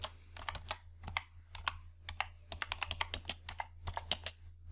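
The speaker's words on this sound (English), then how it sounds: "type the error message" Typing on a computer keyboard while entering an Excel formula, with a quick, uneven run of close, crisp key clicks that come in short bursts and brief pauses, heard alone over a low hum.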